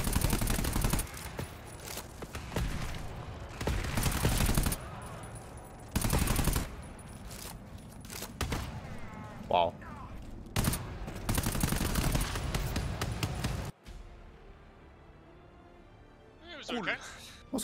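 Automatic weapon fire from the co-op shooter GTFO rattles in dense bursts throughout, loud and close, separated by short pauses, with players talking over it.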